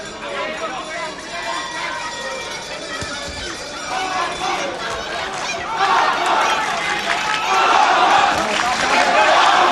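Crowd at a boxing match cheering for Harry Simon against Armand Krajnc, a steady roar of voices that swells louder toward the end, with a commentator talking over it.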